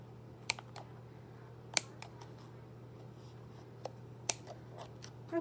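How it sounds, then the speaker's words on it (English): Scissors snip around lace on a handmade jumbo paper tag, a few sparse, faint, crisp clicks scattered over a quiet room hum, with no talking. "I'll just cut around that lace right there"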